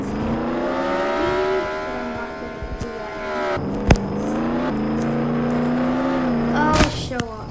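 A Lamborghini in a racing video game with a level 5 engine revs and accelerates, a loud sustained engine whine climbing through gear changes, with brief tire squeal and impact clicks mixed in.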